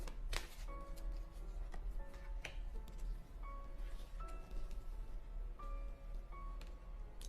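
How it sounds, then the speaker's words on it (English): Oracle cards being shuffled by hand during a reading, a steady papery riffling and flicking that runs throughout, quiet and close, with no talking. "to close this reading, I'm going to choose an oracle card"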